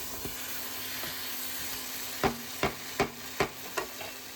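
A spoon scrapes and stirs potato chunks through a simmering meat curry in a pot, a few soft knocks early, then five sharper evenly spaced strokes over a low steady hiss.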